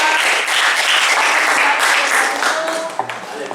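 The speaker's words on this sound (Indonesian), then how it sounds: "kita berikan aplaus untuk kelompok 4" A classroom audience claps for a student group that just finished presenting, a dense, steady burst of applause from many hands that fades slightly near the end.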